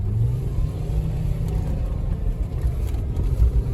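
A Volvo V70 accelerates hard on an unplanned off-road stretch, giving a loud, continuous engine roar and rumble that stays close throughout with no talk.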